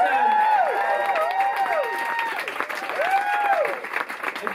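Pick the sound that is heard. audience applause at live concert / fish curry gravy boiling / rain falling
audience applause at live concert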